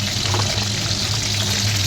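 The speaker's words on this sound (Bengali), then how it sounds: "এই মাছ কটাকে ভেজে তুলে রাখলাম, বাকি এই দুটো মাছ দিলাম।" Katla fish pieces frying in hot oil produce a loud, dense, steady sizzle with constant crackle and no talking over it.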